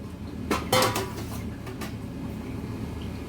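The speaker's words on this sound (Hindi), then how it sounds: "बर्तन को ग्रीस कर रही हूँ और इसमें इसको रख के स्टीम करूँगी" Metal pot being handled and greased before steaming, a few sharp clanks and scrapes in the first second, then quiet shuffling against a faint kitchen background, close by.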